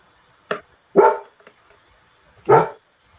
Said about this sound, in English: My bully dog is objecting.